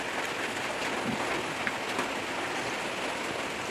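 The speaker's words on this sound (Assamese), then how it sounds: "এতিয়া আকৌ বৰষুণ দি দিলে" Steady rain falls in a rural village, a dense, even hiss that holds without a break and with no voices.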